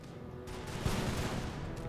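Cannons firing high explosive shells in the Imperial Splendour strategy game: a dense, distant rolling barrage of blasts blending into a continuous rumble, with one stronger thump near the middle.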